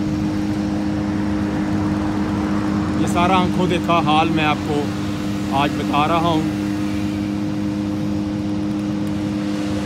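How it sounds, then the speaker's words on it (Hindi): Steady road traffic flows in both directions, a continuous hum of passing vehicles with a low engine drone throughout, while someone talks over it for a few seconds in the middle. "एक तरफ से ट्रैफिक आ रही है और दूसरी तरफ से ट्रैफिक जा रही है।"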